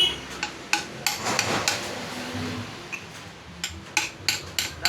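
Tapping an oil seal into the wheel of a Honda Giorno 125 scooter: a series of light metallic taps at irregular spacing, close by, over a faint background hum.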